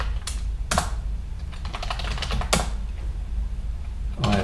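Keys clatter on a computer keyboard at close range while logging into a Linux machine, sharp separate taps with a few louder strokes spread irregularly over a few seconds.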